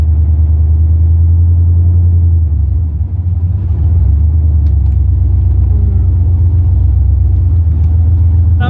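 A 2004 Chevy Silverado with a stage 4 cam, long tube headers and half the exhaust missing, heard from inside the cab as a loud, steady low rumble with a rhythmic engine thump while cruising.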